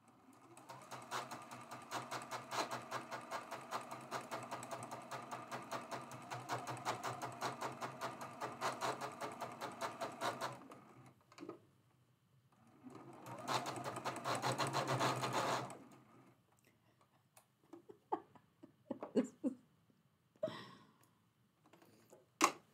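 Sewing machine stitching a traditional quilt block: a long run of rapid, steady needle chatter, a short pause, a second burst, then scattered slow single stitches and clicks, moderately close and without speech.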